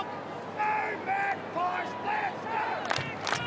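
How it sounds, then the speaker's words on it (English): Large stadium crowd at an AFL match between Carlton and Collingwood, a sustained roar of voices with swelling chants and shouts, loud and continuous through the whole stretch. "It is a big crowd now."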